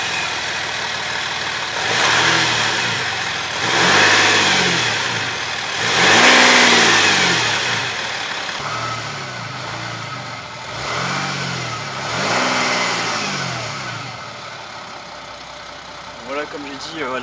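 Audi A5 3.0 V6 engine revved repeatedly, rising and falling in several smooth swells over a steady idle, heard up close with a muffled tone.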